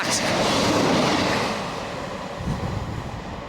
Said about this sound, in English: there's actually a train approaching right now